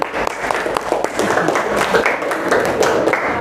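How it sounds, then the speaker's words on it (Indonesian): Classroom applause after a student group's presentation, a steady patter of many hands clapping close by for a few seconds, with scattered voices mixed in. "Ya, tepuk tangan lagi."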